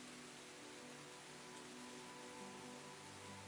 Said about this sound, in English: you kind of like just zone out to the sound of the rain falling